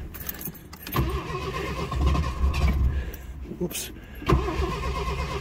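A carbureted engine in a 1982 Ford Mustang Fox body convertible, cold, is cranked and started, with keys jangling, starter whir and the engine catching and running, close and loud while someone speaks briefly.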